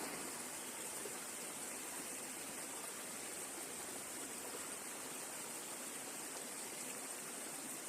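A stream of running water flows steadily outdoors, a continuous even rush and gurgle at moderate level with no voices over it.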